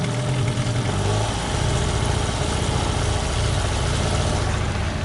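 A Gladiator 9.9 outboard boat motor runs at a steady, loud drone on its first start, a constant close engine hum with no pauses and no voices.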